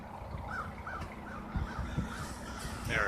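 A huge swarm of crows cawing in the sky, tens of thousands of birds calling over a steady, noisy background, with repeated harsh caws rising and falling at mid distance and no talk.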